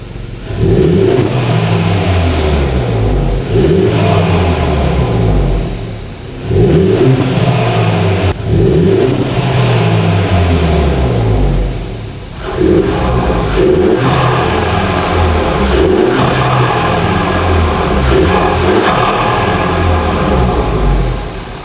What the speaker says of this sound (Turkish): aracımıza tatlı bir ses vermek adına ufak bir işlem uyguladık egzoz sistemine